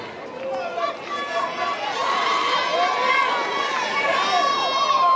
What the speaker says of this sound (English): Getting the crowd fired up anyway. The crowd getting into it a little bit.